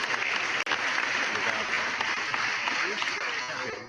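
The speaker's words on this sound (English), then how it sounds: "he sent me a laugh machine, an applause machine" Canned applause from a novelty applause machine on a comedic talk show, a dense, continuous hiss of clapping with a brief dropout early on, loud and steady throughout.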